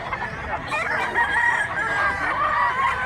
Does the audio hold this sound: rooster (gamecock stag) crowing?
yes